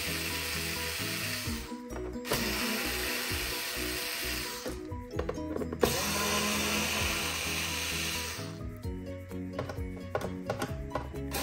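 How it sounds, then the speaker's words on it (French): An electric screwdriver backing Torx 10 screws out of an overheating Xbox One S console: steady whirring runs of a few seconds each, broken by short gaps and light clicks, close and alone. "Je me suis muni d'un tournevis électrique parce qu'honnêtement, ça va quand même beaucoup plus vite"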